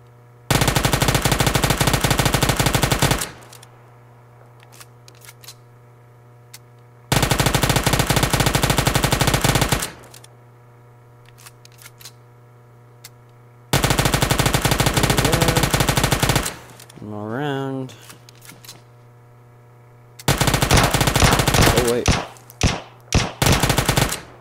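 Long sustained automatic gunfire sprays out ammo in PUBG Mobile. Four loud, dense bursts of rapid shots are separated by quieter gaps of background hum.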